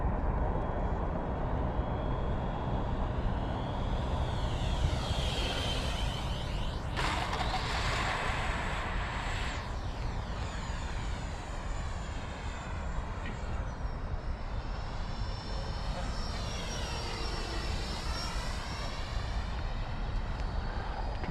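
Steady high whine of an FMS F-16 Fighting Falcon 64mm EDF model jet flying overhead, with pitch sweeping up and down as it passes and turns, continuous and fairly loud over wind noise, with no talking.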